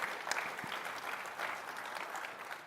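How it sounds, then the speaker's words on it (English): Audience applause at a tech conference session, a steady wash of many hands clapping, fairly faint and distant, lasting the whole moment. "That definitely requires an applause"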